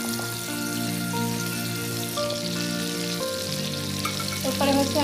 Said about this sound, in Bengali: তো দেখতে পাচ্ছেন আমি কিন্তু চিংড়ি মাছগুলো ফ্রাই করে নিচ্ছি